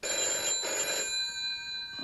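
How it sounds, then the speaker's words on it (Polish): An old-fashioned telephone bell rings indoors in a television detective drama, a loud sustained metallic trill in two bursts, then fading into a quieter ringing tone. "Odbierz, i tak wiem, kto dzwoni."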